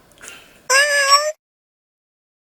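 A person's voice imitates a cat, giving one clear, drawn-out meow after a softer, fainter murmur, close and alone against silence.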